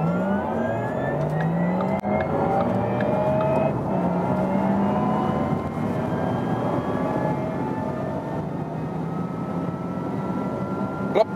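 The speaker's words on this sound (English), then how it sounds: "we'll accelerate from 30 kilometers an hour and just go all the way through." Porsche Taycan 4S electric car accelerating hard on the German Autobahn from low speed: a steady loud interior drone with rising whining tones and road roar building continuously, no talk.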